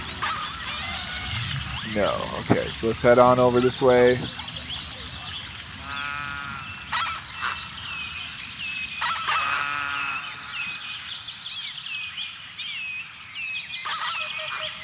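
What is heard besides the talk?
geese honking in video game Cities: Skylines aviary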